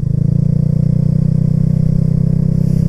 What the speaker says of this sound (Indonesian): baru ini pertama kali gue pake ini motor buat gue kebut-kebutan